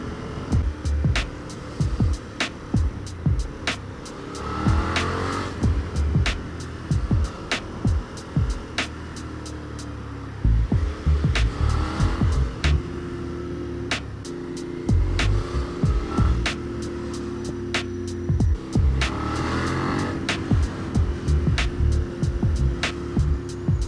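A 2016 Suzuki SV650 motorcycle engine runs steadily throughout with a low, even drone, broken by repeated sharp clicks and knocks, fairly close and moderately loud.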